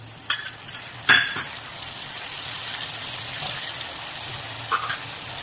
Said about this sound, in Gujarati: પછી આ લીંબુનો રસ છે એ નાખીશું।